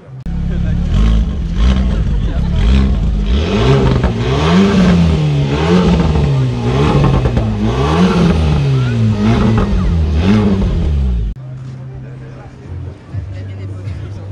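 An Alpine sports car engine revs hard and loud, pitch repeatedly surging and falling, then cuts abruptly to a low idling rumble.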